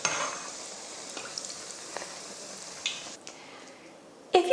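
Sweetcorn bhajias fry in hot oil in a pot with a soft, continuous sizzle, with a few light clinks of a utensil and a louder clatter near the end.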